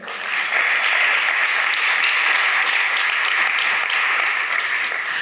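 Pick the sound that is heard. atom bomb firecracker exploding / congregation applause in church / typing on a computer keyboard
congregation applause in church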